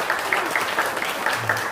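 A church congregation applauds during a Sunday service, a brief burst of steady clapping heard somewhat distant with a low murmur beneath.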